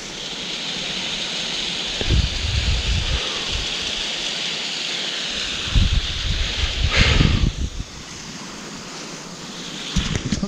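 A waterfall rushes in a steady, broad roar of falling water, with gusts of wind buffeting the microphone and a few close rustles and thumps of movement.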